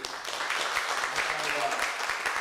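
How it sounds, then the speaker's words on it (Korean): A church congregation claps in tribute to a missionary during a worship service: an even, sustained round of applause with voices talking over it. "한번 경의의 박수 한번 부탁드리겠습니다."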